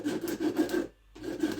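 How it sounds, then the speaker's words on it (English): Sandpaper rasps by hand against a wooden rainmaker in quick back-and-forth strokes, close and steady, pausing briefly before the scraping resumes. "Starting to get frustrated with the sanding process at this point"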